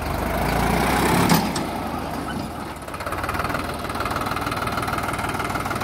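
A Sonalika DI 50 DLX tractor engine runs steadily in third gear, a close, loud diesel chugging with an even, knocking rhythm after a brief louder clatter near the start, with no talk over it.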